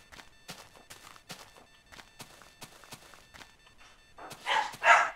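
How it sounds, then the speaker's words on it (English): Dogs barking in a burst near the end, loud and close, after a stretch of quieter thumps and shuffling sounds. "Oh my god, dogs, shut up."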